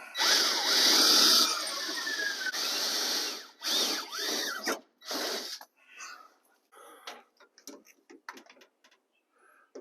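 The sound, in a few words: drill drilling holes to fasten steering column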